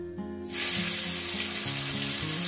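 Chopped tomato lands in a pan of hot oil with black cumin seeds, bursting into a sudden loud sizzle after a brief quiet start, then crackling steadily and close while light music plays underneath.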